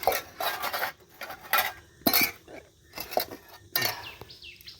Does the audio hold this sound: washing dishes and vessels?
yes